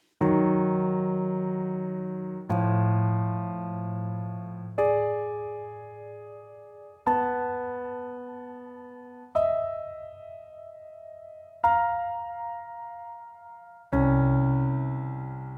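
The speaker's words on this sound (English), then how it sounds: "play 2 notes and then hear what the interval is." Pairs of notes struck together as random intervals, seven sustained dyads in a row, each ringing and slowly decaying before the next, clear and alone.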